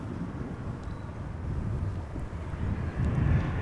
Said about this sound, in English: another Embraer from KLM arriving on the scene